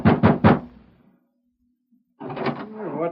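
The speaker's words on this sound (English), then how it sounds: "He pounded excitedly at the door of the hotel room where Gus and Deke were staying" Three quick, heavy knocks pounding on a hotel room door in an old radio drama, close and loud, followed by a pause and then someone speaking.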